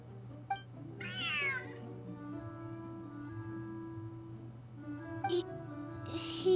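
Cat meows in the video game Genshin Impact, a few short separate mews over low background game music.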